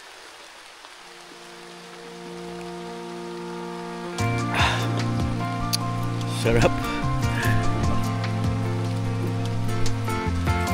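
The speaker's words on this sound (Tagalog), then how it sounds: "At baka lumakas yung ulan." Rain falls on a tropical rural trail near a cave, a steady wash that thickens and grows louder partway through. A low sustained hum runs beneath it, and a voice speaks briefly.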